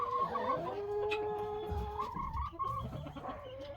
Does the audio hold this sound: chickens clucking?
yes